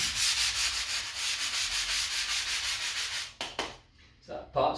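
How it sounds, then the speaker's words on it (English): A scrubbing brush works hard over ceramic floor tile grout, a loud rhythmic rasping of quick back-and-forth strokes for several seconds, then a few separate scrubs after a short pause, no speech. "using the scrubbing brush this way, really gets into the grout"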